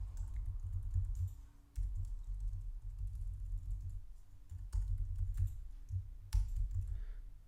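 Quiet computer keyboard typing comes in short irregular bursts of light clicks while file paths are edited, close and faint, with no one speaking.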